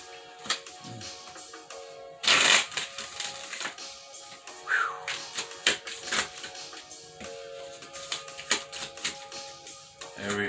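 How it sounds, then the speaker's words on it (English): Tarot cards shuffled by hand, with a quick flurry of crisp riffling taps and a louder burst of card noise near the start, followed by scattered softer taps and slides. "3 more shuffles for Aries."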